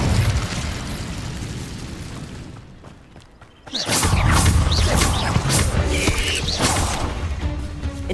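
An Incendio fire spell goes off in the Hogwarts Legacy game, a loud whooshing burst of flame and crackling blast that follows a rumbling stretch and a brief lull, sustained and close.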